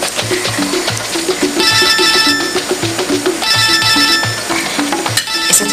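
A mobile phone rings during a meal, its electronic ringtone melody repeating loud and close in short bursts over a steady background, with no talking.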